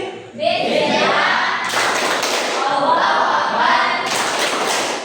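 A class of children does a rhythmic concentration clapping game in a classroom, with a group of hands clapping and thumping in quick patterns, loud and close, mixed with young voices.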